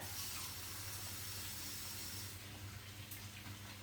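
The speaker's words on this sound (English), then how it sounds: "You hear them frying?" A steady, close sizzling hiss of yellow gooseneck squash frying in a pan, continuous and fairly even throughout.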